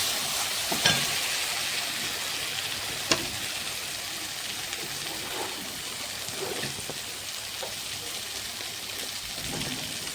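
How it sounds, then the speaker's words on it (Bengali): Turmeric being stirred and sautéed in a pan gives a steady, soft, continuous sizzle, with a few light scraping clicks from the stirring. No one speaks. "চলো হলুদটা দিয়ে দিই হালকা তো নাড়াচাড়া করে নিই"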